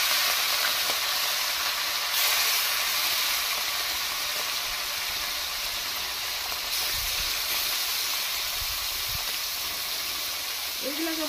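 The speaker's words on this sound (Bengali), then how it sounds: "বন্ধুরা তেলটা গরম হয়ে গেছে, আমি মাছগুলো ছেড়ে দিচ্ছি তেলের মধ্যে।" Bhusa prawns hit hot oil and sizzle in a pan, a steady, loud hiss that fills the whole stretch evenly, with a voice talking briefly over it near the end.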